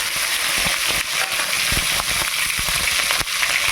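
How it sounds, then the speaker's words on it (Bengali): Ground spice paste hits hot oil in a kadai while drumstick stalks are being cooked, giving a loud, steady, close sizzle and crackle that continues throughout with scattered pops. "তেল গরম হয়ে গেছে। আমি যে মশলাটা বেটে রেখেছিলাম এবার তেলের মধ্যে দিয়ে দিলাম।"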